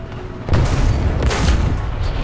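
Tank cannon fire from a Soviet SMK twin-turret tank in War Thunder: two heavy booming shots about a second apart, loud and close, each trailing into a rumbling low roar.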